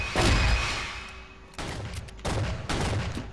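A double-barrel shotgun firing in the game CrossFire, several heavy booming blasts about a second apart, each with a long decaying tail, loud and close.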